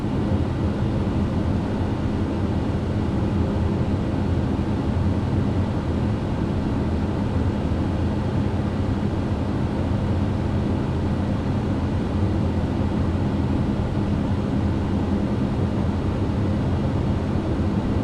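A Pilatus PC-12 turboprop taxis in Microsoft Flight Simulator, a steady loud engine drone that holds unbroken and even throughout.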